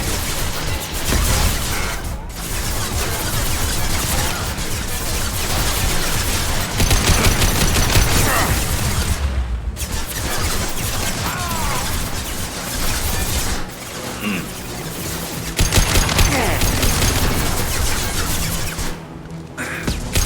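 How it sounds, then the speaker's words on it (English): Sustained, loud gunfire in the video game Mass Effect 2, with heavy high-impact shots and rapid bursts in a dense firefight that runs nearly continuously, broken by a few brief lulls. "Firing a high-impact shot!"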